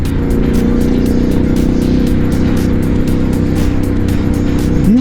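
Triumph Scrambler 1200 parallel-twin motorcycle with a 270-degree crank, its exhaust roaring loud and steady at high revs close by, a continuous throaty drone throughout.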